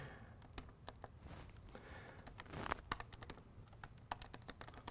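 Steady keystrokes on a computer keyboard while someone types Java code, a close, quiet stream of irregular clicks with short bursts and pauses, no voices.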